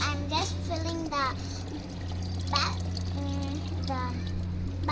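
Water runs steadily into a bucket on a terrace, a continuous trickling wash heard close by beneath a person talking throughout.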